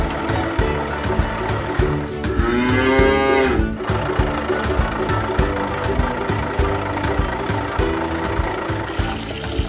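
A cow gives one long, clear moo over a steady idling engine rumble in the background.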